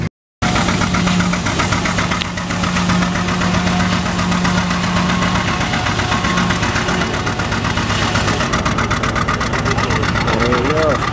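A big John Deere 830 two-cylinder tractor engine runs steadily while powering a sawmill at an antique power show, a loud, continuous throbbing drone up close for the whole stretch.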